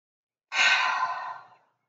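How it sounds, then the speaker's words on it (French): A single deep, audible breath exhaled through the mouth during a Pilates breathing exercise, a breathy rush lasting about a second that fades out into silence. "Expire. Un peu plus, mets du râle dans ton expiration."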